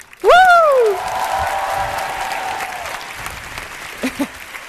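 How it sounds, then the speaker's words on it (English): Crowd applause at an outdoor European Youth Event closing evening in Strasbourg, following a fanfare band's performance; a loud rising whoop or whistle opens it, then broad clapping sustains under a held tone, with faint talk near the end. "Can we get another one big applause for the first fanfare de Strasbourg?"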